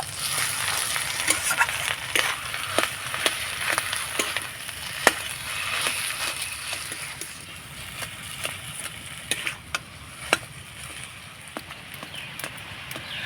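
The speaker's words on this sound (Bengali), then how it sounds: "এবার মশলার সঙ্গে নাড়াচাড়া করে আমি আলুটাকে কষিয়ে নেব।" Potatoes stir-fried in a pan with turmeric, coriander and cumin powders, a steady low sizzle broken by frequent sharp spatula scrapes and taps against the pan, close and without talk.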